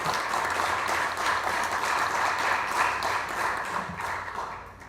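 An audience at a presidential candidates' forum applauds to welcome a candidate, a dense wash of clapping that holds steady for several seconds before starting to thin out.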